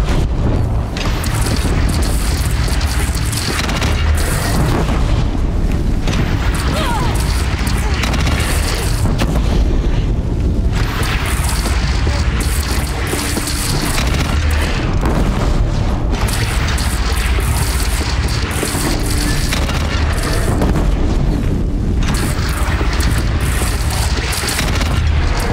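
Explosions as a bridge is brought down in the video game Horizon Zero Dawn: a dense, continuous roar of booming blasts and rumbling debris, loud and sustained throughout, with voices occasionally heard beneath the din.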